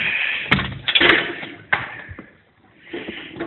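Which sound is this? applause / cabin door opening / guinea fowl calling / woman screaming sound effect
cabin door opening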